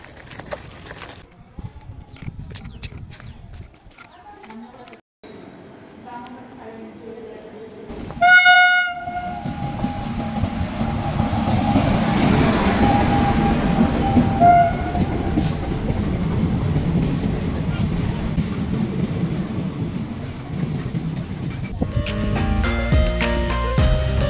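Train at the small single-platform Paralakhemundi railway station, with a loud horn blast, then a long rolling rumble and clickety-clack of wagons passing close, plus later horn tones.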